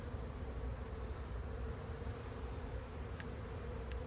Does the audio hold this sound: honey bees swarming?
yes